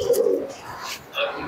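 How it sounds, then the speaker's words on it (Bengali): A Pakistani pigeon with fine feathers coos in a pigeon shop, with a couple of short, close, soft coos in quick succession and a faint chirp behind. "পাকিস্তানি কবুতর"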